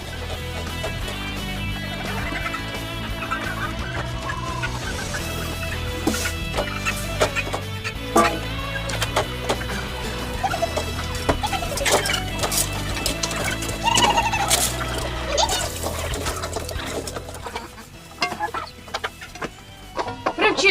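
Chickens cluck and chatter continuously, several birds close by, with scattered rustling and knocking around them.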